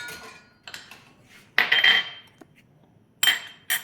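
A metal spoon set down into a spare bowl in a home kitchen while making milk tea, with several sharp clinks and rattles close by, including two brighter knocks near the end.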